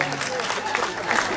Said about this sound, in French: On les applaudit encore, Franck et Valérie Lollet